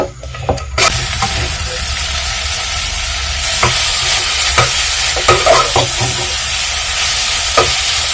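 Food being warmed and stirred in a pan on a stove in a Nairobi home kitchen, with a steady close sizzle and hiss and intermittent scraping stir strokes throughout.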